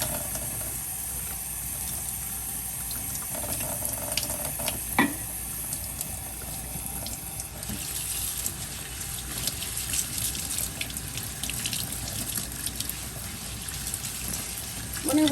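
Small chapila fish are rinsed in a sieve under running tap water, a steady close splashing patter with occasional sharper clinks, and a voice speaks briefly over it.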